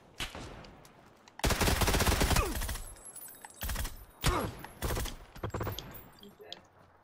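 Automatic gunfire in PUBG on Xbox One comes in a long, loud rattling burst followed by several shorter sprays with brief pauses, close by and without talk.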